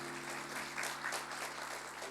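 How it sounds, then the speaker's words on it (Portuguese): Church congregation clapping to welcome visitors, a faint, brief patter of applause from a modest crowd under a steady background hum. "É uma salva de palmas para os nossos visitantes"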